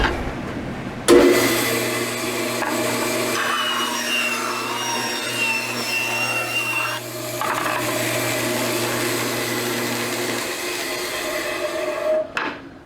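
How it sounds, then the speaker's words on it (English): A band saw fitted with a hardback blade rips through one-inch-thick figured maple, a loud close whine and rasping bite that holds steady for about nine seconds before the cut ends and the machine runs on freely. "So I'm gonna go ahead and make a rip cut with this just to show you how fast a hardback blade can eat through some material."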